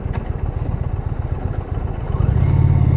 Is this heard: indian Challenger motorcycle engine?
yes